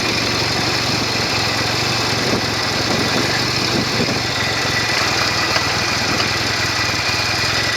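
A Norton Commando 750 motorcycle engine idles steadily at about 1100 RPM with tickover issues, a close, continuous rough thrum with a constant vibrating buzz.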